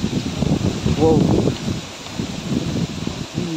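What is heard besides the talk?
strong wind blowing through leaves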